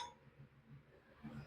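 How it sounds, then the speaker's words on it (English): A glass pane for a wood stove door built from a truck rim is set down against metal, giving faint, quiet clinks and a soft knock at the end in an otherwise hushed space. "And my piece of glass is going to sit"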